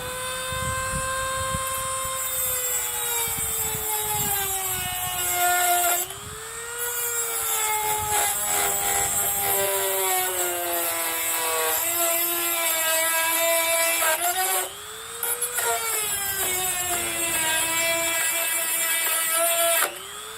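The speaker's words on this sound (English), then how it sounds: "That was the last of my heavy-duty cutting discs, so we'll see how we do with the smaller ones." A power tool spins a small cutting wheel through metal, producing a loud, steady, high whine with strong harmonics whose pitch sags and recovers as it bites, with brief dips around six and fifteen seconds.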